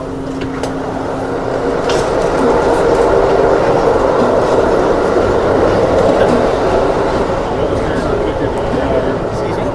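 An Amtrak train, the inaugural Borealis, rolls steadily along the rails with a continuous loud rumble and faint clickety-clack heard from inside the passenger car, a few light knocks on top.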